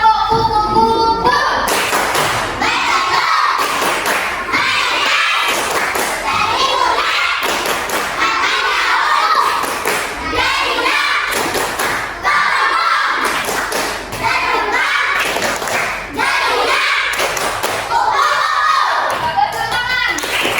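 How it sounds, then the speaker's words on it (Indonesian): A group of children does the tepuk kupu-kupu butterfly clapping chant in a classroom, loud rhythmic hand claps and thumps in repeated patterns mixed with energetic chanting voices throughout. "Tepuk kupu-kupu."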